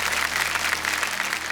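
A studio audience applauds a guest on a Hindi talk show, dense steady clapping throughout, fairly loud and unbroken.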